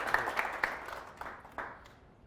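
TV studio audience applauding to welcome a guest, a short burst of clapping that fades out over about two seconds, fairly faint.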